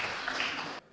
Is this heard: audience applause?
yes